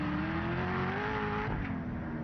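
A Corvette Z06 police car's exhaust drones loud and steady close by, holding a sustained revving tone that climbs slightly before dropping back, with no voices over it.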